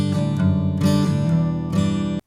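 A $3,500 guitar recorded through a $100 microphone and a $250 interface plays a few strummed chords with clear sustained harmonics, three distinct strums ringing close and full with no talking.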